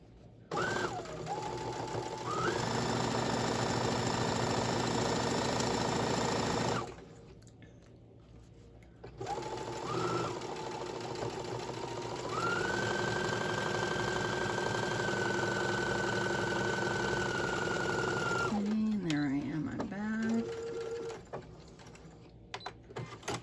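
A sewing machine stitching a mini Santa sack runs in two long steady bursts with a short pause between, the motor whirring evenly up close and stopping with a brief clunk at the end.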